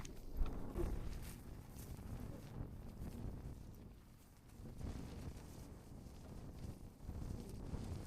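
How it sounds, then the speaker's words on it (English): Gusty wind on an exposed hilltop on New Zealand's Te Araroa trail near Mangawhai Heads buffets the microphone in low, uneven rumbles that rise and fall, faint overall. "Pretty windy up here."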